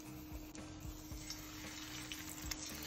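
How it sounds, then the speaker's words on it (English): Murasaki sweet potato latkes frying in hot oil, a quiet, continuous sizzle with a few soft stirring clinks scattered through it. "Fry the Murasaki sweet potato latkes. Fry them. Fry them in the oil."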